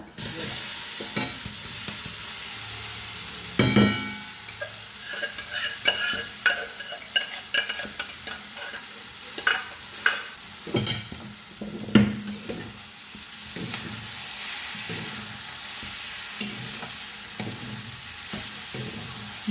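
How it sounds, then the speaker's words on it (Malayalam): Sweet potato masala with ginger, onion, green chili, curry leaves and garlic frying in a pan, a steady sizzle broken by a run of repeated loud scraping stirs in the middle, then calmer frying, no talking. "നന്നായിട്ട് നിളക്കുക"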